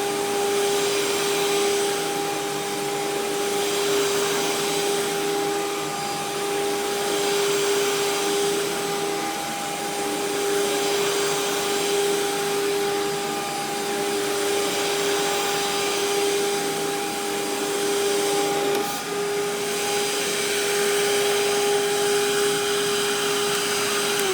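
A Bissell Plus 3550 upright vacuum cleaner runs steadily and loudly throughout, a constant motor whine with strong tonal hum and broad airflow noise, no talking.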